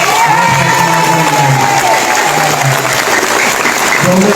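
Loud, sustained audience applause from a large crowd at a Manila city event, dense clapping with scattered cheers and voices mixed in throughout.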